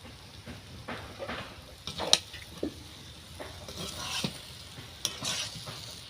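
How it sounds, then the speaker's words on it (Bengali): Cabbage dish being stirred in a pan over heat, soft scraping and occasional utensil taps over a faint sizzle, close and quiet with irregular strokes. "একটু ভালো করে নেড়ে নেব"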